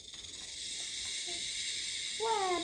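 A snake hiss from a children's jungle animal sound book plays as a steady high hiss for most of the moment, with a brief melodic electronic tone near the end and a faint voice nearby.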